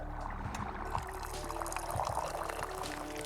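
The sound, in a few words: liquid pouring in video game Wanderstop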